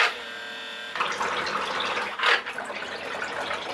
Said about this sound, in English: Quick test in the bath, just to make sure we got forwards and backwards and that sort of thing.